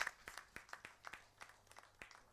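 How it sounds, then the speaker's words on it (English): Faint, sparse claps from a small audience at a company annual general meeting fall in a loose, uneven rhythm, with no voices heard. "Please kindly help us give them a big round of applause."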